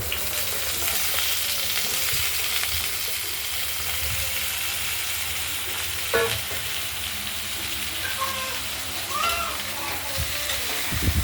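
Ridge gourd pieces fry in a pan of hot oil with a steady, close sizzle throughout, plus a few brief clinks and stirring knocks.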